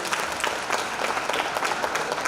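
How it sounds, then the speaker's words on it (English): A lecture audience gives a round of applause for a panel moderator at a mayoral customer service event, dense steady clapping filling the hall throughout, with no talk. "Can we give Usomash a round of applause, please?"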